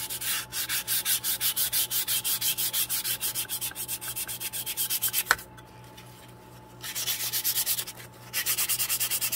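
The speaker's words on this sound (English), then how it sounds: "if you don't want to see the white, take a little bit of sandpaper over it" Sandpaper rubbed over laser-cut wood on a 1:12 scale garage dollhouse kit, sanding off paint and burn marks with steady rapid back-and-forth strokes, close and loud, pausing briefly twice.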